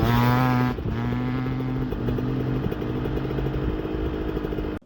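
A two-stroke GasGas EX300 dirt bike engine buzzes crisply at steady revs with a few quick throttle changes during a fifth-gear wheelie across ice. The sound is loud and close and continues alone without any voices.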